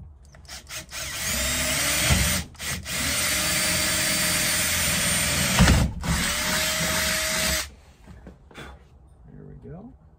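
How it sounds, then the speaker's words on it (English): A power drill bores a mounting hole for mirrors on a Subaru Sambar, a loud whining run of about five seconds with two short pauses, followed by a few quiet handling sounds and a voice. "that's what we're going to be drilling"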